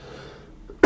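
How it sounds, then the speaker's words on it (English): A single sharp, loud cough bursts out at the very end after a quiet stretch. "Cough into the mic next time so everybody can know."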